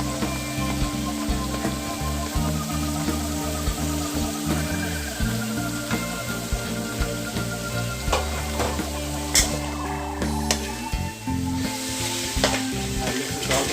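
Capsicum, carrot and onions stir-fry for chicken chow mein, sizzling steadily in a hot pan with scraping stirs throughout, set against background music.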